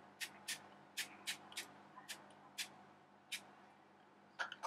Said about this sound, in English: I'm gonna set my face with Written Wild Natural Finish Setting Spray.